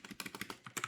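Quick clicking keystrokes on a computer keyboard, about a dozen taps in a brisk, uneven rhythm, close and fairly quiet with nothing else heard.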